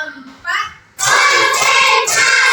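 A class of schoolchildren clap their hands together in a dense, loud burst of overlapping claps that starts abruptly and keeps going, with a short quieter patch of voices before it.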